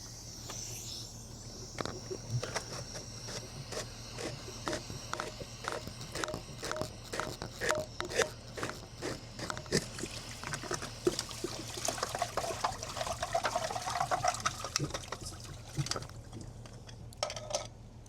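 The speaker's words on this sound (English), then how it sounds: "pop the drain plug before you lift the lid off to get all the nasty water out of the filter system" Dirty water drains from an opened pool filter drain plug, a quiet uneven trickle and splatter with scattered drips and clicks, growing slightly busier toward the end.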